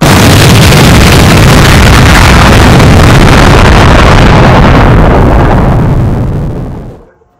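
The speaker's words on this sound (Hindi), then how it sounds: "अब हम फोड़ने वाले हैं सबसे बड़ा पटाखा यानी कि आंधी तूफान" An Aandhi Toofan firecracker, the largest in a Diwali stash, goes off in a long, very loud roaring blast that holds steady for several seconds, then fades out abruptly into silence.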